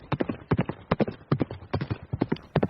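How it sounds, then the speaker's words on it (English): A horse's hooves clip-clop along a rural back road in Indiana, a close, brisk and steady rhythm of sharp hoofbeats heard without talk. "riding on his horse through Indiana's back roads to get to his hometown"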